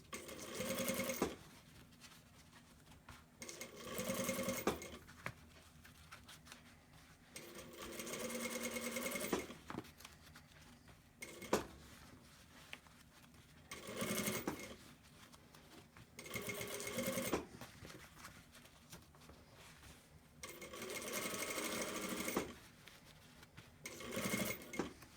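A sewing machine stitches a cloth face mask in repeated bursts of steady whirring, each a few seconds long, separated by brief pauses, close and clear with no talking.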